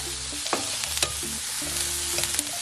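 Jalapenos and onions sizzle in a hot pan, a steady broadband frying hiss with a few sharp scrapes and knocks from a wooden spatula stirring them, close and fairly loud.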